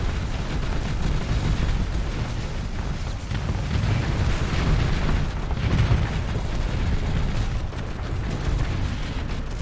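Space station blowing apart in the Starsector space game, a continuous heavy rumble of overlapping explosions and booms, loud and dense, swelling briefly near the middle.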